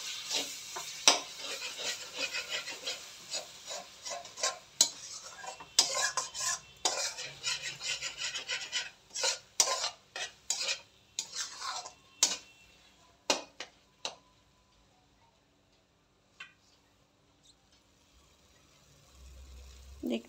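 Biryani gravy being stirred and sautéed in a pan, with a spoon scraping and clinking against the metal in a steady series of close taps and scrapes that thin out near the end, leaving a quiet stretch.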